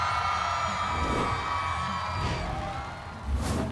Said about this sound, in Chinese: 让我们掌声欢迎刘宇、